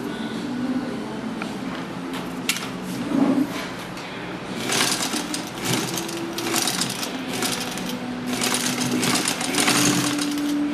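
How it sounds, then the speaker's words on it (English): A sewing machine hums and clatters steadily up close as it stitches two fabric ends together, its rapid needle rhythm continuous throughout. "now I'm going to sew those two ends together"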